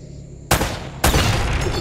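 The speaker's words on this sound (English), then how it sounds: "That little tiny explosion broke that giant pillar?" An explosion shatters a giant stone pillar in Uncharted: Drake's Fortune, two loud sharp blasts landing half a second apart, then sustained crumbling rubble and debris roar.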